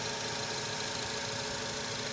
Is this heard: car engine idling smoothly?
yes